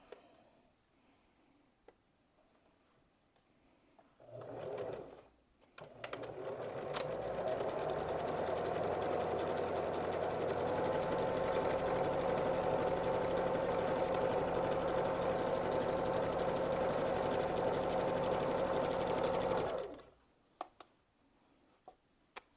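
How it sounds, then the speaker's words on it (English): A sewing machine runs a zigzag stitch on a couch pillow case, a steady whirring drone lasting about fifteen seconds, close and loud, after a brief start and stop. "I am going to start doing my zigzagging stitch"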